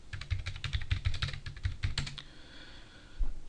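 Quick bursts of keystrokes on a computer keyboard entering a terminal command, close and crisp, a run of rapid taps followed by a pause and a final single key press.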